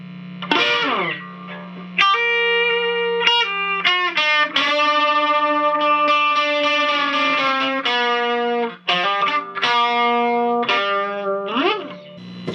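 Bright, clangy electric guitar through a 1972 Gibson G70 amplifier with a Blues Driver, a run of strummed chords with sustained ringing notes and short pauses between phrases, played close with no talk over it.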